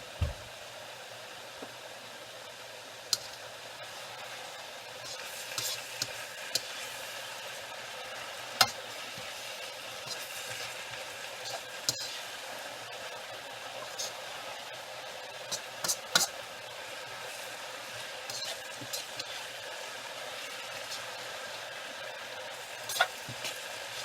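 Cabbage wilting and browning in a hot pan, with a continuous hissing sizzle and intermittent sharp clicks and scrapes of stirring, close and alone without speech.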